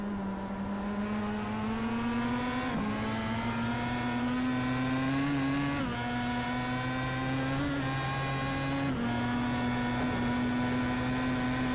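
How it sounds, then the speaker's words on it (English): A racing car engine roars steadily up close in a video game, its pitch climbing in long pulls, with several brief dips where the driver dips the clutch into a left-hand corner and the revs drop, then pick up again. "dipping the clutch on the way into the left-hander, saving as much fuel as he possibly can"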